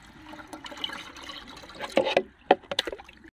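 Water is poured from a watering can into a pigeon drinker for breeding pigeons, giving soft liquid splashing and trickling that swells into a few louder gushes near the end, close and fairly quiet.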